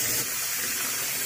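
Water runs from a tap into a basin in a steady, close gushing rush that barely changes through the brief moment, with no talk over it.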